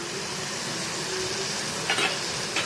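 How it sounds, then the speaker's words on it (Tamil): Grated coconut being stirred into sautéed onion and tomato for a tomato kulambu, heard as a steady soft sizzle with a couple of brief scraping strokes near the end, and no talk. "இப்போ நம்ம துருவி வச்ச தேங்காவை வந்து இதில் போட்டுக்கலாம்"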